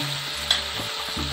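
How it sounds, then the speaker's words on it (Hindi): Potatoes frying in a pan with onion, garlic and ginger, a steady close sizzle with a few soft stirring knocks and scrapes, no voices. "अभी मैंने प्याज फ्राई किया है और लहसुन अदरक डाली है और आलू डाले मैंने अभी।"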